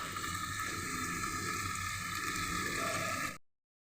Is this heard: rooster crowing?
no